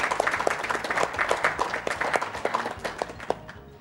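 Audience applause at a live speedrun marathon event, a quick burst of many hands clapping, dense and fairly near, fading slightly over a few seconds.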